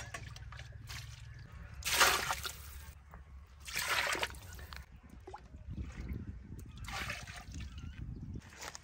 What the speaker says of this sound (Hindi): पाए जो हैं ज़्यादा देर पकने हैं तो पानी थोड़ा ज़्यादा डालना पड़ेगा।